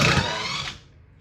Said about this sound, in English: Let's see if we can disassemble this head if our drills don't go dead.